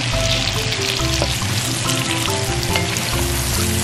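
Cut string beans sauté in a hot pan, a continuous loud sizzle with stirring scrapes and clatters of the utensil throughout, close up and with no voices.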